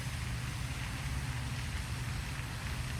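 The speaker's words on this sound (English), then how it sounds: "even the rain" Steady rain falling, a dense even hiss with a low rumble underneath, continuous and fairly loud throughout with no voices.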